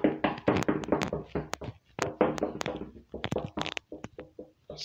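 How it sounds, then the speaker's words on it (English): Knocking on a surface, a series of sharp taps and thunks in irregular bursts, close and fairly loud, repeating across the whole stretch with short pauses between groups. "Stop knocking."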